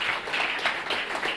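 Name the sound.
audience applause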